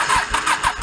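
A garage-sale motorcycle engine fires up on starting fluid and runs rough, its exhaust pulsing in uneven bursts, loud and close with no talk.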